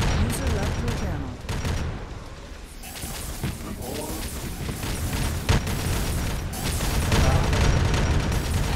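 Gunfire in the ARMA 3 video game, with dense, continuous volleys of shots and booms forming a loud, sustained roar, while a voice talks over it.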